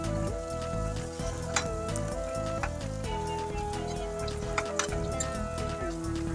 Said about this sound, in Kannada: ನೋಡಿ, ವೆಜಿಟೇಬಲ್ಸ್ ಎಲ್ಲ ಹಾಕ್ಕೊಂಡು ಫ್ರೈ ಮಾಡ್ಕೋಬೇಕು.